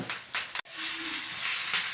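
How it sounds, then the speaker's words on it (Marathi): Cumin and curry leaves crackle in hot oil with a loud, close hissing sizzle, broken by a sharp break early on and then holding steady throughout. "कढीपत्ता सुद्धा कडकड कडकड कडकड कडकड आवाज आला"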